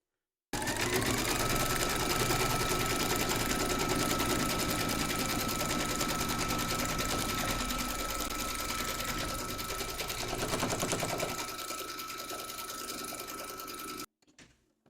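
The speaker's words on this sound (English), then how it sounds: "pop your hoop in and stitch round number 2, and that's going to secure the felt and the strap in place" A home embroidery machine stitches white thread through felt and a strap held in a hoop for an Easter treat bag, a fast, steady mechanical whirr running for about thirteen seconds before stopping abruptly.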